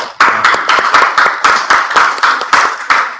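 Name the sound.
group clapping after a club membership vote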